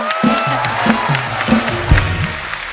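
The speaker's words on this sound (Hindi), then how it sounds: "एक बार इनके लिए जोरदार तालियां" Studio audience of The Kapil Sharma Show applauds and cheers loudly for actress Renuka Shahane, a dense sustained wash of clapping with crowd noise and music underneath.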